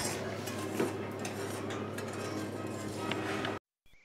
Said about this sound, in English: at this point you're just gonna keep whisking